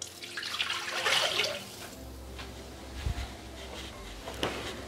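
Water is poured into the mixing bowl of a Bimby TM6 kitchen machine while making couscous with peas and salmon, a quiet splashing pour at first that fades into faint trickles and small knocks.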